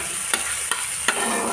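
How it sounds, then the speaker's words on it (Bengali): Crushed garlic dropped into already hot oil, sizzling steadily and close by, with three sharp scraping stirs of a utensil in the pan. "এবার দেখো আমি থেতো করে রাখা রসুনগুলো দিয়ে দিয়েছি ওই যে তেলটুকু ছিল"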